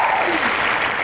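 An audience clapping steadily at an introduction, a dense, even wash of applause close by and fairly loud throughout, with no voices on top.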